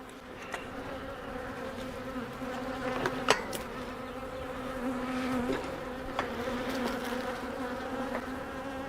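Honey bees from a full honey hive, opened during a swarm cell check and split, drone steadily and up close for the whole stretch, with a few brief louder passes as single bees fly near.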